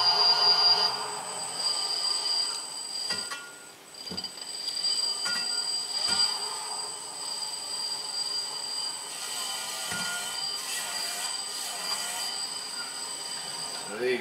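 A washing machine motor rigged as a homemade electric outboard spins flat out at very low RPM, giving a steady, close, high-pitched electric whine with a faint squeal that holds for the whole stretch.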